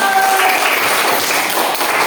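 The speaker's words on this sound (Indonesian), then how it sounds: "tepuk tangan untuk Markus" Schoolchildren in a classroom applaud a classmate, a dense wash of quick clapping filling the room at close range and staying loud throughout.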